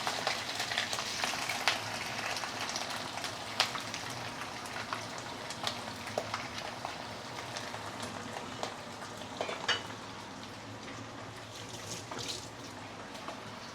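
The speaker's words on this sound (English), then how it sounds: "So once you have heat up the oil, we can put in the prawn." Prawns frying in hot oil in a pan give a steady, dense sizzle with scattered louder pops and crackles throughout, close and continuous, with no voices.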